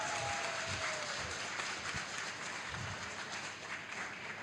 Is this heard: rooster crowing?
no